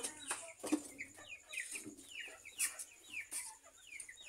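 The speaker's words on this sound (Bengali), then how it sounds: "বোনিকে বাড়িতে কি মুরগি নিয়ে আসে তাই দেখার জন্য আইছিলাম" Village chickens cluck in a series of short, fairly quiet calls at irregular intervals, close by in a calm outdoor setting with no talking.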